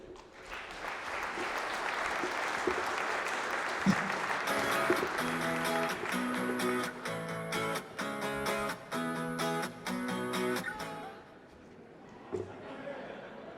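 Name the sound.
audience applause welcoming a speaker to the stage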